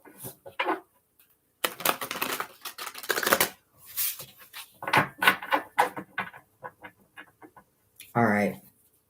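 Rapid bursts of tarot cards being shuffled, several quick riffles separated by short pauses, close up, with a brief voice near the end.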